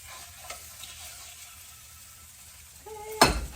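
Eggs fry in a little butter in a pan with a soft, steady, faint sizzle, then a sharp metallic clatter and scrape of a utensil against the pan near the end.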